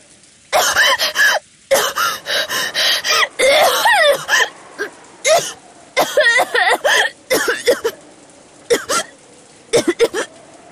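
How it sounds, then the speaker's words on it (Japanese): A person with asthma coughs in a rapid, harsh fit during an attack, bursts coming one after another with wheezy gasps and short pauses between, close and loud. "突然発作が来ると咳が止まらなくなるんだよ"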